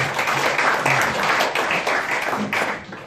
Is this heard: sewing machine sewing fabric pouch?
no